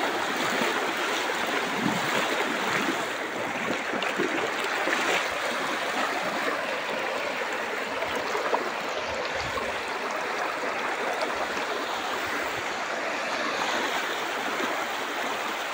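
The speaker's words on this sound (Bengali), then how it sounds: "এখন দেখো কীরকম জল যায় রাস্তার ওদিকে" Flood water rushing across a road, a steady broadband churning roar that stays loud and continuous throughout, with some wind buffeting the microphone.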